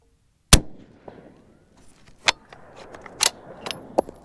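A 6.5 Creedmoor rifle firing a 130-grain ELD-M handload gives one sharp, loud shot, followed by fainter clicks and mechanical rattles outdoors, with no talking.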